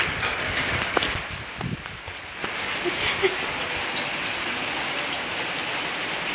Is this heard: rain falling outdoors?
yes